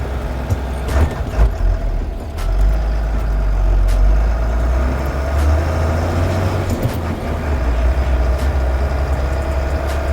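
Heard from inside, a bus rumbles along with a low steady engine drone, and sharp air-brake hisses and clicks break in now and then.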